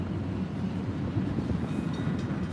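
A train rumbles past at a steady level near a building on Center Street, a continuous low roar with faint higher metallic squeals, with no voices heard.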